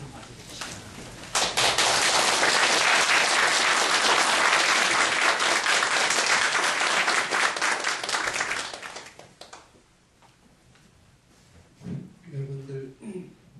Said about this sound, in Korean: 고영렬 선생님 모실 때 뜨겁게 박수로 맞아주시기 바랍니다